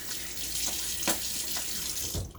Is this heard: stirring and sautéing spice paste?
no